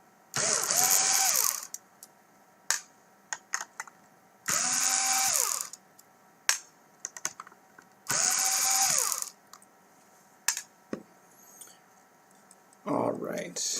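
A small screwdriver or driver tool whirs in three repeated bursts while backing out screws from a TAO/LX7 drive motor unit, with scattered clicks and taps in between and a fourth burst starting at the end.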